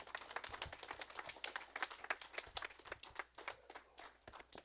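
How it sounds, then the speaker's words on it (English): A church congregation gives a round of clapping at the close of a Sunday evening revival service, with quick, uneven hand claps from many people, faint and somewhat distant. "Give God a clap offering."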